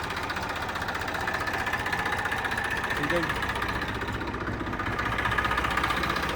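A tractor's diesel engine idles steadily with a low, knocking rumble throughout, while someone speaks briefly over it.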